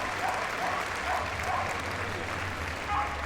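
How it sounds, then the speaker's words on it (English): A large indoor arena audience applauds steadily at the Crufts 2013 agility final, a dense, continuous wash of clapping with a low hum running underneath, moderately loud throughout. "So let's give them a round of applause and welcome."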